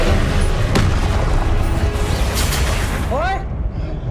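Confringo explosive spell cast during Hogwarts Legacy gameplay, a dense roaring blast of booming impacts and crashing effects that fills the whole clip loudly, with a rising magical whoosh near the end before it fades.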